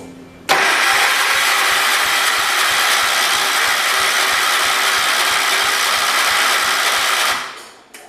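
A John Deere 212 lawn tractor engine starts abruptly and runs steadily at a loud, rapid, even idle for about seven seconds, then cuts off and winds down, close by with no talk.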